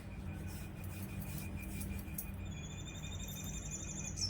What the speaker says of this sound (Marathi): आता यामध्ये ना जो उकडून घेतलेला बटाटा तो असा किसून घालायचा आहे